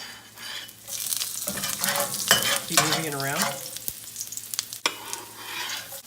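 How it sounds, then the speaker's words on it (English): Steady hot-oil sizzling of ginger with a spatula scraping and stirring through it, close up, while someone speaks briefly over the crackle. "You hear that sizzle?"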